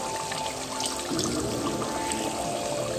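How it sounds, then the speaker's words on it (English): A cup of water is poured into simmering Indian red meat korma curry, starting with a soft splashing pour that continues as a steady trickle over a quiet kitchen background. "I'm going to add a little water, about a cup of water"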